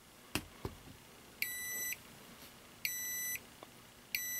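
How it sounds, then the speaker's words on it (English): Three electronic beeps from a bamboo Qi wireless charging pad as a phone is placed on it, each a steady tone lasting about half a second, evenly spaced, with a couple of soft clicks before the first. "now you hear that beep"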